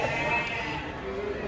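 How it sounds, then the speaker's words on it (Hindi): A large goat bleats at a busy livestock market, a drawn-out wavering cry heard close and fairly loud over the crowd's background murmur. "काफ़ी बड़ा बकरा देखने मिला है ये मंडी में"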